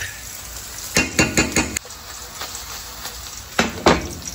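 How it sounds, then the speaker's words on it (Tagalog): Mushrooms, kangkong, onions and garlic sautéing in hot oil in a pan, a steady sizzle broken by bursts of loud stirring and scraping, several quick strokes then two more, close up with no talk. "Pinapainit ko to kasi gigisa na tayo ng ating mushrooms and konting kangkong."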